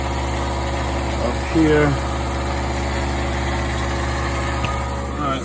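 A Meon half-horsepower garbage disposal runs under a sink with a steady mid-pitched motor hum and low vibration throughout, while a person speaks briefly over it.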